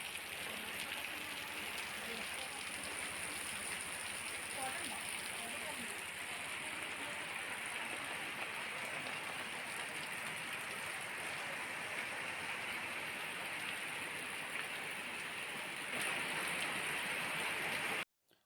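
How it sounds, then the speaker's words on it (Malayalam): Summer rain falls in a steady, even hiss that continues without a break for about eighteen seconds, with no one speaking and a faint dripping, flowing texture underneath. "ഇപ്പോൾ നല്ലൊരു മഴ കിട്ടി, പ്രദേശമൊക്കെ ഒന്ന് തണുത്തിരിക്കുകയാണ്"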